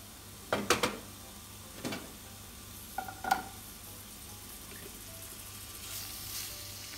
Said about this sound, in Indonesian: Tumis bawang putih, bawang bombay,